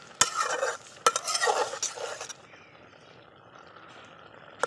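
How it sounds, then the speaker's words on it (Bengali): A spoon stirs potato curry in a pan with a few sharp scraping knocks and gritty shuffles, followed by a soft, quiet sizzle as the stirring stops. "আমি এখন এটাকে ভালো করে নেড়ে দেব।"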